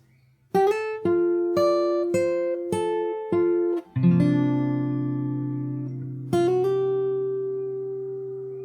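Fingerstyle acoustic guitar slowly plays the ending of the Animal Crossing New Horizons theme: a handful of plucked notes and chords ringing out one after another, then a long sustained final chord with a last note added, close and clear with no talking.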